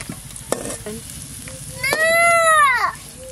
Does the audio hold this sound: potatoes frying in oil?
yes